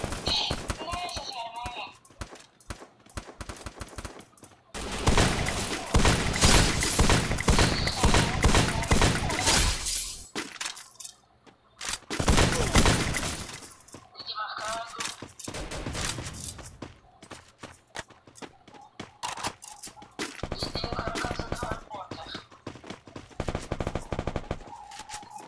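Bursts of rapid gunfire from the battle royale game Free Fire during a ranked squad match, with sustained volleys and scattered single shots, loud and close, while someone talks over the action.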